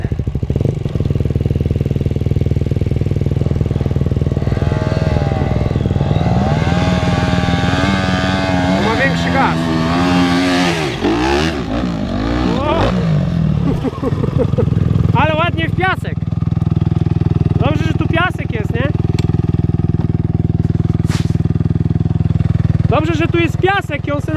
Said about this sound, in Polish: O, ktoś tam jeździ motorem.